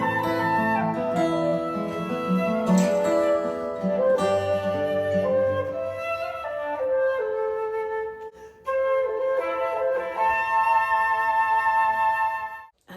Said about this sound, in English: There are also 3 flutes that I played in the intro.